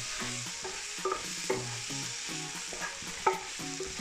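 Tomatoes with a spoonful of tomato paste sizzle steadily in a pan, a close, continuous frying hiss broken by a few scraping stirs and soft utensil taps, with no voices.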